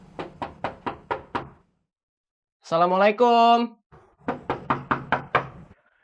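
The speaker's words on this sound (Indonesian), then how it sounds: "Ya, ketok lagi." Knocking on a door in an Indonesian TV comedy scene, two firm rounds of about six rhythmic raps each, close and loud, separated by a greeting spoken between them.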